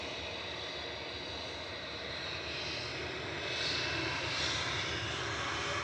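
An aircraft departs Manchester Airport, a steady, moderately distant engine roar that swells slightly toward the end, with no talking.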